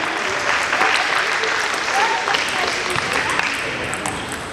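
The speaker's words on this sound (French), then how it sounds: "Vous avez le droit de les applaudir" An audience at a high-level sports event applauds in a steady, dense round of clapping that holds at an even level throughout, with a few voices mixed in.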